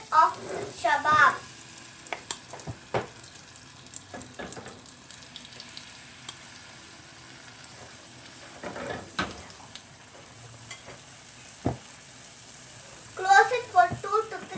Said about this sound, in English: Heat the pan and add butter. Now put the mixture of Chebab.